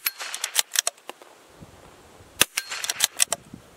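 Sharp gunshots from a .270 centerfire rifle, several loud cracks in quick bursts with short echoing tails, two clusters separated by a brief pause, no talking.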